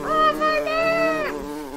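A cartoon bee buzzes in a sustained, nasal, voice-like drone, steady for about a second before trailing off, close and fairly loud.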